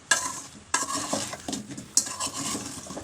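Olive pickle is stirred continuously in a pan, the spoon scraping and knocking in repeated strokes over a light sizzle, close and fairly loud, with no voices.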